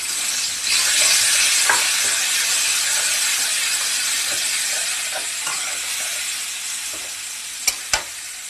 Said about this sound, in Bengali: এই রসুন কুচি দিয়ে দিলাম।